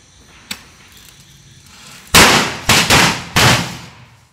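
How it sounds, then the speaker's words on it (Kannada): Diwali firecrackers go off outdoors: one small sharp crack first, then after a pause three or four loud, close bursts in quick succession, each with a short fizzing tail. "ಪಟಾಕಿ ಹೊಡೆದ ಎಂಜಾಯ್ ಮಾಡಿ"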